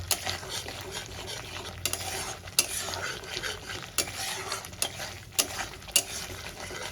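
Spice masala for katla fish sizzles in a pan while a spatula stirs and scrapes against the metal in uneven strokes, close and moderately loud.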